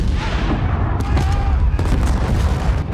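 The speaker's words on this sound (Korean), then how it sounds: "Sounds like your detonators worked." Detonators blow up boats in a spy action film, heard as dense rumbling blasts and sharp booming cracks over a constant heavy roar, loud and close, with several sudden impacts about a second apart.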